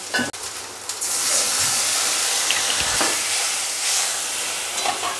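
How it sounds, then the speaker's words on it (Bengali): Water poured onto potatoes and spices frying in oil bursts into a loud, steady hiss and sizzle that holds for several seconds after a brief clatter, with no speech. "এবার একটু জল দিয়ে আর একটু মশলাটাকে সাঁতলাবো।"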